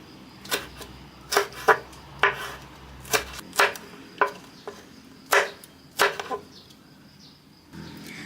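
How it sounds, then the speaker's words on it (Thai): Sharp knife chops slicing chili peppers strike a cutting board in an irregular series, about a dozen crisp, close taps with short pauses between them, no talking. "จากนั้นเราก็มาหั่นพริกของเราต่อนะคะ"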